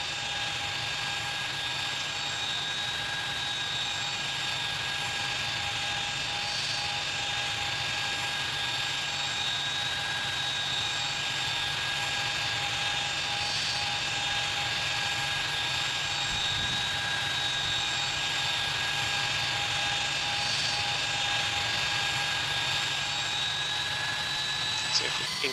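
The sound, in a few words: aircraft landing in video game Tower Simulator 3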